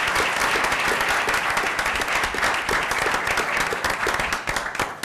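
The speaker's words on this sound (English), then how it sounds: "Let's give a nice round of applause to him." A school board meeting audience gives a steady, full round of applause, dense and continuous for several seconds before tapering off at the end.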